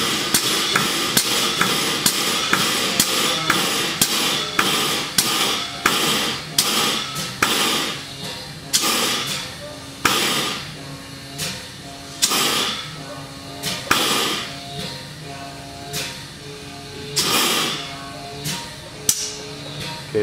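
An air-driven gas booster pumps gas pressure up toward 10,000 psi, producing a rapid, steady series of sharp, hammer-like clacks and pneumatic bursts that run continuously and grow slightly more spaced as it works.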